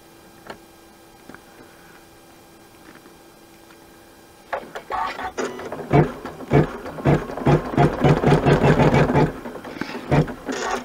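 An embroidery machine stitches a zippered coin purse in the hoop. Sparse quiet ticks give way to a close, fast, steady rhythmic chatter of stitching that runs to the end.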